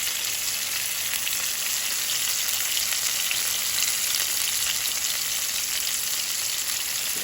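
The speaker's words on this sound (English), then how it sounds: "This is the roast searing." A pot roast sears in an Instant Pot with a constant, loud, crackling sizzle of hot fat, heard up close and unbroken by voices.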